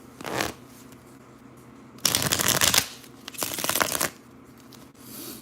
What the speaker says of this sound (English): Y'all heard me shuffling the card.